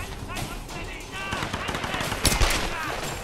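Gunfire in the Tomb Raider video game, several sharp shots spread through the clip with a louder crack near the end, mixed with game ambience and occasional voice.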